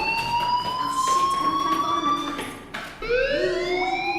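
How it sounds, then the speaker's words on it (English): A fire alarm in Life Is Strange wails steadily, a loud electronic tone rising slowly in pitch, cutting out briefly and restarting with a fresh rising sweep. "do you hear that fire alarm?"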